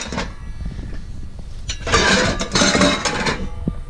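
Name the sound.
handling pots and pans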